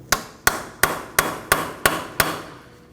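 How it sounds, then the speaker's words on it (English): Seven sharp metallic hammer strikes on a punch against the axle center of a 2013-2019 Nissan Sentra front steering knuckle, evenly spaced and ringing briefly, loud and close with nothing else heard. "we need to use a hammer and punch directly in the center of the axle"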